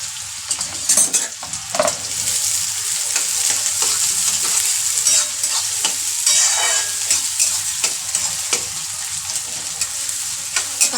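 Onion sizzles in hot oil with curry leaves, a steady bright frying hiss with occasional crackles and stirring scrapes, close and continuous with no talking.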